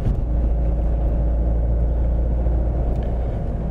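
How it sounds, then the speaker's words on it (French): A car engine runs in third gear at about 50 km/h, a steady low rumble with road noise filling the whole stretch, close and constant with no talk over it. "Si je suis pas sûr, je mets la main dessus et j'écoute mon moteur."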